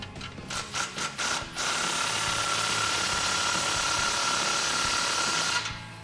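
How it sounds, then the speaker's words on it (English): A handful of quick ratcheting clicks tighten a clamp on a Pypes Pype-Bomb axle-back exhaust on a 2018-2019 Mustang GT, then a steady mechanical whir holds for several seconds. "Now tighten that clamp."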